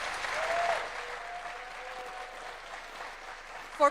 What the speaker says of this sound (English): President Ruto and President Macron, a warm round of applause